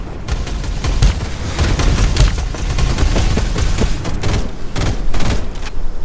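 Dense, loud gunfire in the Farlight 84 video game: rapid overlapping shots and bursts crackle continuously with booming impacts throughout, close and intense, and no talk can be heard.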